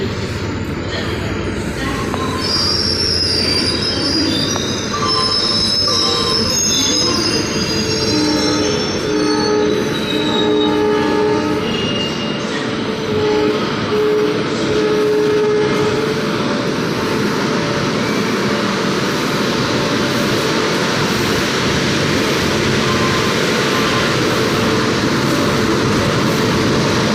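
An air-conditioned LHB passenger train running on the Haridwar route, with a continuous loud rumble of wheels on rails and long high squeals from the wheels, heard from inside the coach; faint voices sit under the noise.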